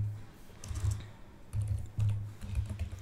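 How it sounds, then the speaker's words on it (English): Commands being typed on a computer keyboard while repairing Windows 11 boot errors; a few bursts of soft, close key taps with brief pauses between them, quiet and with no voices. "So type all these commands carefully and hit enter to execute them"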